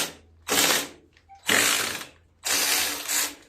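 Ratchet wrench loosening a bolt on a Wheel Horse garden tractor, three loud, close bursts of rapid clicking separated by short pauses.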